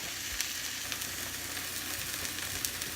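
Fish frying in a pan for a bruschetta-topped dish, a steady close hiss and sizzle with faint crackles and pops throughout, no talk.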